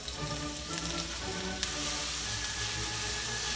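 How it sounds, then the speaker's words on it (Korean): Chopped carrot and onion sizzle in hot olive oil in a frying pan for omurice, a loud continuous crackle with a light clatter partway as the vegetables settle, then a brighter, steadier hiss. "열이 어느 정도 오르면 당근 양파 투입"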